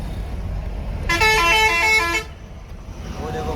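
A bus horn blares in one steady, loud harmonic honk lasting about a second at a Delhi roadside stop, over a rumbling background of road traffic and idling engines.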